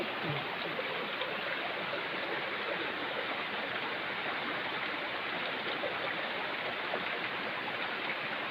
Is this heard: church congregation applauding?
no